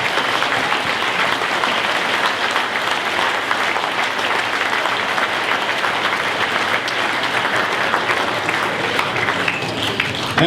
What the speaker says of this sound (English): can I have a quick round of applause please for the players and parents